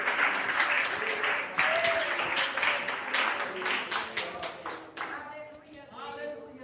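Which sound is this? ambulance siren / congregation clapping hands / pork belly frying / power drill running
congregation clapping hands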